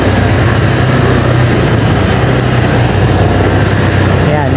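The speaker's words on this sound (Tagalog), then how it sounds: "naririnig nyo naman siguro yung tunog ng mga backhoe na nandito sa kanan" Backhoe engines rumble steadily during house demolition on a Manila street, a continuous loud low drone with machinery noise filling the whole stretch, no clear breaks.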